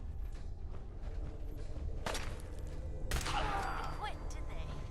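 Laser pistol fire from a Fallout 4 sneak attack: two sharp, bright zaps about a second apart, the second followed by a wavering whine, set against steady game ambience with talk mixed in.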